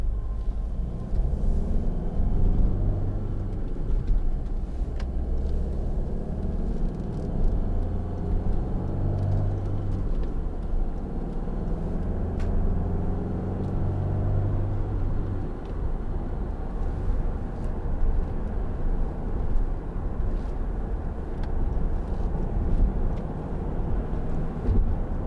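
Cabin of a 2013 Hyundai ix35 1.7 CRDi SE cruising at about 70 mph in sixth gear, a steady low engine drone with road and tyre rumble and wind noise, continuous and even throughout with no talking.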